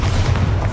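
A Bombarda blasting spell explodes in Hogwarts Legacy as a loud, close, low rumbling boom that fills the whole brief moment with no talk over it.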